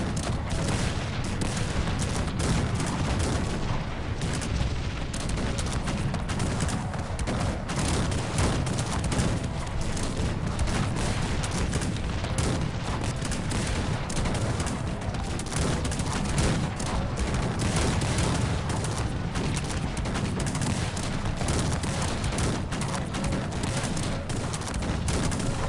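Loud, unbroken battle noise from Cossacks 3 with cannons booming amid crackling musket volleys, a thick wall of gunfire that never lets up.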